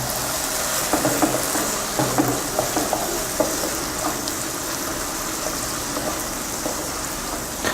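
Onions, ginger and garlic paste sauté in a hot pan for a steady, close sizzle with a hiss of frying oil, broken now and then by sharper crackles and stirring scrapes, no voices.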